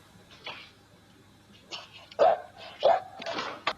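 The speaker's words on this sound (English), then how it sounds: "He's barking at you." A dog gives a few short yips and barks, loud and close, in quick bursts with brief whimpering sounds between them.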